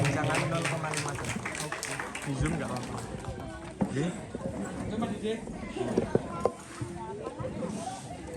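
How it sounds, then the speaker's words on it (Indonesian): An audience claps for three judges at a night-time Malam Tirakatan community performance evening. The dense, steady applause runs throughout, with voices mixed in. "Beri tepuk tangan untuk ketiga juri pada malam hari ini."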